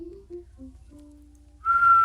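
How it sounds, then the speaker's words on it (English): A person whistles a few short, soft notes, then one louder, sustained, higher note, close up with no other sound. "I tend to whistle like an old man"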